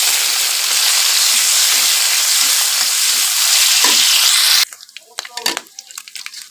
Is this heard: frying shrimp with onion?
yes